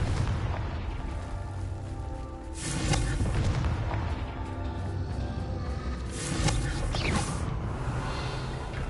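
Fiery spell blasts in the Hogwarts Legacy video game land as two deep, booming explosions a few seconds apart, each swelling over a rumbling background of game ambience with no talk.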